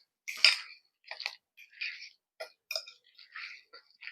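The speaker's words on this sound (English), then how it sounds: "I'm going to put a good handful of cilantro. We'll leave a little handful, kind of garnish the top with it. And then we're just going to mix all of that up." A spoon works through guacamole and chopped cilantro in a bowl, giving a few separate clinks and soft scrapes with short quiet gaps between them.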